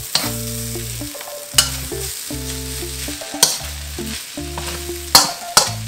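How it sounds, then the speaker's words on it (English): Chicken fried rice is stir-fried in a pan, a steady sizzle under repeated sharp scrapes and clanks of a spatula tossing the rice; no voices. "Keep the fried rice moving."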